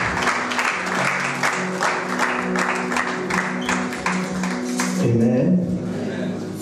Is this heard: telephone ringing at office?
no